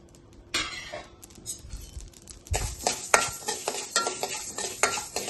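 Mustard seeds, about 125 grams, crackle and pop while dry-roasting in a hot pan for sambar powder, with a stirring scrape and a dense run of sharp, close pops that grows busier partway through.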